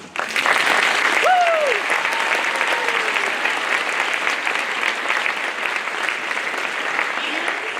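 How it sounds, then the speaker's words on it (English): A school concert audience gives a sustained, dense round of applause for a colleague at a 4th-grade chorus concert, loud and steady throughout, with a few faint voices and whoops rising briefly above the clapping. "She deserves a huge round of applause"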